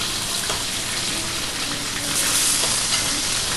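Ground beef patties for bacon cheeseburgers fry in a pan with a loud, steady, continuous sizzle that fills the whole stretch, without any talking.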